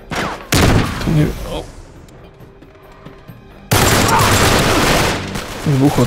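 Gunfire and an explosion in the video game Uncharted 3 set in Syria, with loud sustained bursts of shooting, a lull, then a sudden heavy blast and continued firing; someone talks over it.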